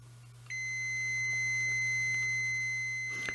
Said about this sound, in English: when it sees that there's a connection between points, it will beep